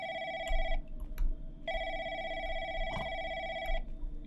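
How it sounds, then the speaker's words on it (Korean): An office telephone in The Lancaster Leak horror game, set in a call center, rings in two long, loud electronic bursts separated by a short pause, heard clearly against a low background rumble. "전화가 온다고?"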